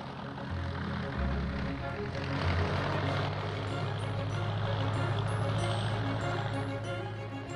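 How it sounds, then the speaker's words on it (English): An early Morane-Saulnier propeller monoplane engine buzzes as a continuous, moderately loud drone with a rough low hum and slight surges. "the most impressive flight of the early years of flying was by a Morane Saulnier monoplane"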